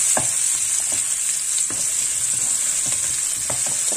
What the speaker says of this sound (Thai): ใส่กระเทียมลงไปผัดนิดหนึ่ง ใช้พี่น้องผัดกระเทียมให้หอมก่อนจ้ะ